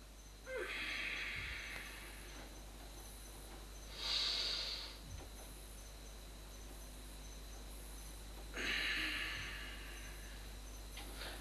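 Slow breathing during an Iron Shirt qigong exercise, with three breathy exhalation-like swells spaced a few seconds apart over a quiet, steady background and no speech.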